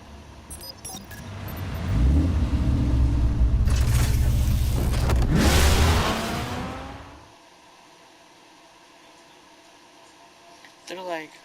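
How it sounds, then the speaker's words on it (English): Batmobile from the Batman Telltale video game roaring loudly for several seconds, a heavy rumbling rev that rises and then cuts off, leaving quiet background with a brief sound at the end. "it sounds like Bruce Wayne's car. No, it's Batman's Batmobile."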